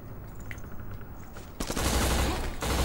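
Sniper rifle and other gunfire in the video game Black, a few faint sharp cracks early on, then a sudden loud burst of dense, sustained firing and explosions that continues to the end.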